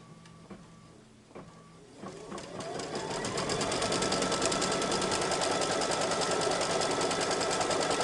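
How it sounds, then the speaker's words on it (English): A computerized embroidery machine stitches a placement line for quilt batting on a mug rug, starting with a few clicks and then settling into a steady, rapid mechanical whirring chatter, moderately loud and close. "So right now this is going to do a placement line for our batting."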